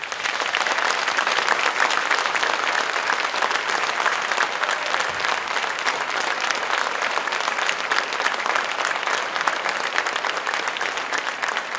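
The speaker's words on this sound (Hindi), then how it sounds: "ताली बजाकर, हाथ उठाकर सब बताएं" Studio audience at a live Hindi TV courtroom-style election special in Patna breaks into sustained, loud, dense applause that fills the whole stretch without pause.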